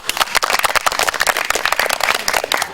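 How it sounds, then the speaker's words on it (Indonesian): Loud, close clapping from a group of participants during an outbound team-building session at an infantry battalion, with rapid, dense hand claps filling the space. "Tepuk tangan dulu."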